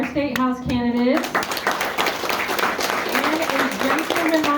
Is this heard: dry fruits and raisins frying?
no